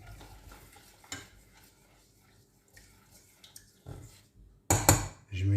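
Water and sugar stirred in a pot for strawberry syrup, making soft scraping and light clinking strokes, then a louder clatter near the end, with a voice talking quietly.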